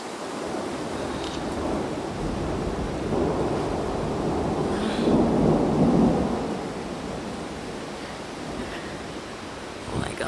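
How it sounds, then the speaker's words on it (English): Thunder rumbles low and long through a thunderstorm, swelling into a deep rolling peak midway over a steady wash of rain and wind. "Oh my god, listen to that thunder."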